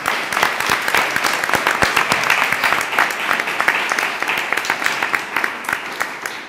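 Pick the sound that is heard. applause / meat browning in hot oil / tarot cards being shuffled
applause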